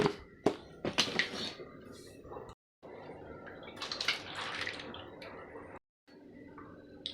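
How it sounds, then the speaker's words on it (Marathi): Sliced potato chips are washed by hand in salted water in a bowl. Irregular close splashing and sloshing come in bursts, stopping for two brief silent pauses, with no talking. "वेपर्स छान धुवून घ्यायचे आहेत"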